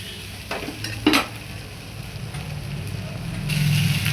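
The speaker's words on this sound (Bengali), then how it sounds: "মটরশুঁটি দিলাম, এটা সেদ্ধ করা তো ভাজছি, এটাকে ভেজে নিতে হবে" Boiled green peas fry and get stirred in hot oil in a pan, a soft steady sizzle with a few scraping stirs and a brief clatter, a low hum underneath.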